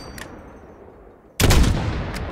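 A single loud, sharp sniper rifle shot rings out in the video game Call of Duty: Modern Warfare at a 600-meter range, breaking a quiet ambient lull and leaving a rolling echo.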